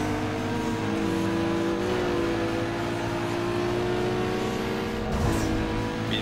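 Race cars accelerate in the video game Need for Speed Underground 2, a steady loud engine whine with shifting revs and a brief burst of tire noise near the end, without voices.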